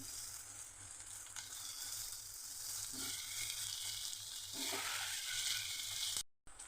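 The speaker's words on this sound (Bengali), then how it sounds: "তেল গরম হয়ে গেছে, এবার পেঁয়াজ দিয়ে দেবো।" Onions frying in hot mustard oil in a karahi, a continuous soft, steady sizzle with faint stirring scrapes, close but quiet, cutting off abruptly at the end with no voices.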